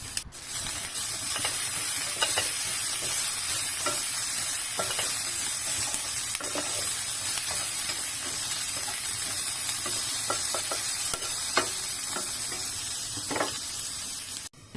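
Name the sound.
stir-frying carrots with tuna and tofu in pan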